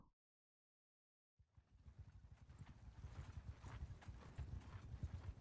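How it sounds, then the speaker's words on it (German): Horse hooves clatter in the video game Mount & Blade 2 during a ride toward a town in the Western Empire. A rapid, rhythmic galloping clip-clop starts after a second of silence and grows steadily louder and closer. "Gott, wir reiten jetzt hier nach Saneopa."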